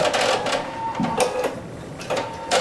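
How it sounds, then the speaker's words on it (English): A sewing machine stitches down a quilt block, several short bursts of rapid mechanical chattering separated by brief pauses, close and moderately loud. "So I am going to go ahead and stitch this one down."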